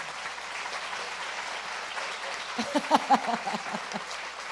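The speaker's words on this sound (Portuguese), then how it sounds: "Ildete Pereira de Mello, uma salva de palmas aqui para essa mulher." Audience applause for a woman being honored at a feminism talk, a steady wash of clapping through the clip with a few sharper claps and a voice rising near the end.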